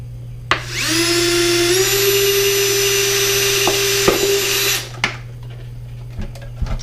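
A power drill whirs up to speed, runs with a loud steady whine for about four seconds drilling holes in a homemade crawfish trap, then winds down, followed by a few light knocks.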